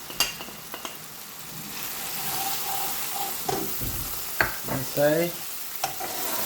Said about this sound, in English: you want to cook the rawness out of the spices, so make sure you don't burn the spices